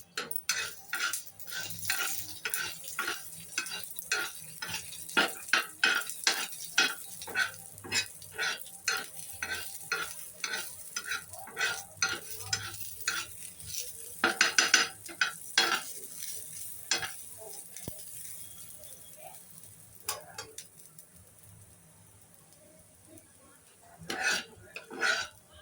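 Coriander seeds and green chillies roast in a little oil in a pan, heard as a quick, regular run of scraping stir strokes over a soft sizzle, close by. The strokes thin out and pause near the end, with no voices.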